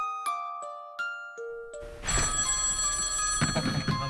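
A telephone rings with a few clear, repeated chimes in a quiet room, then a burst of louder rustling and noise follows as it is picked up.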